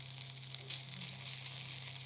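Chopped onions sizzle steadily in a hot pan as they finish browning, a continuous close, even crackle with no talk over it.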